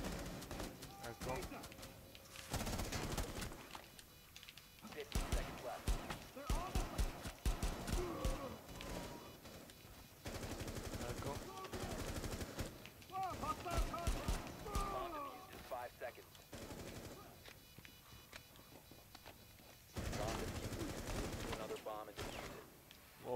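Gunfire in Rainbow Six Siege during a Terrorist Hunt mission: repeated rapid bursts of shots, some quick rattling volleys, scattered through a long stretch, with in-game voices and a person talking over them.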